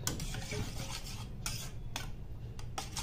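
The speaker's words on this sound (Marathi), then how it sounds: "डाळ शिजली आहे लगेच आहे ना अशी मॅश करून घ्यायची" Cooked dal (lentils) being mashed in a pot with a utensil: quiet, repeated scraping and clicking strokes in an uneven rhythm.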